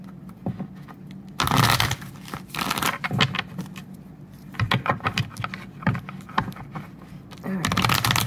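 Close, soft rustling and riffling as a deck of tarot cards is shuffled in several bursts, with quiet handling sounds in between.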